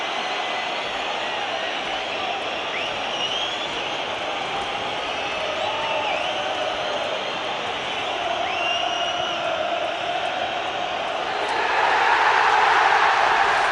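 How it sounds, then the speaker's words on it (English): A home football crowd at Sunderland's stadium during a 2007 Championship match against Burnley, ending in a home win: a dense, distant roar with scattered whistles that swells into a louder cheer over the final seconds. "The biggest cheer that you will hear on Wearside all season."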